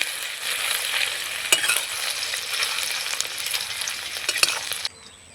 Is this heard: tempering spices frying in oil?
yes